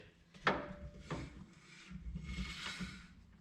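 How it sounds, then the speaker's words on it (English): The rear differential flange on a 3rd-gen Toyota 4Runner is spun by hand, producing faint scraping, rubbing mechanical whirs in a few close, quiet strokes. "that's me spinning the flange on the diff"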